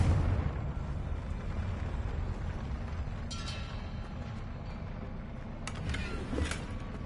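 Fiery blasting-spell explosions from Hogwarts Legacy roar in a continuous rumbling burst, with sharper crackling pops flaring up around the middle and near the end.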